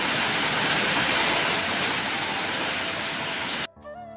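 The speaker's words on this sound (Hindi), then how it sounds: "लगातार 2 दिन से बारिश हो रही है" Heavy continuous rain pours down in a broad, steady hiss for several seconds, then cuts off abruptly near the end as a brief different sound takes over.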